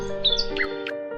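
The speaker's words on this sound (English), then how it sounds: "Birds start singing sweet songs." Sweet birdsong in spring: a few bright chirps and short whistled phrases rise over a steady background tone, moderately close and clear.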